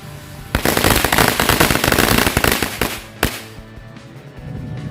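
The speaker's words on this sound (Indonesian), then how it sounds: "selanjutnya kita nyalakan mercon renceng Betawi" Betawi string firecrackers (mercon renceng) set off beside a house, a loud rapid volley of sharp bangs for about three seconds, then one last crack and quieter aftermath.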